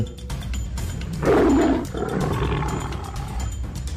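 A weretiger's sound-effect roar rises into a loud, rumbling growl that peaks and then trails off, set against a steady background bed with no talking.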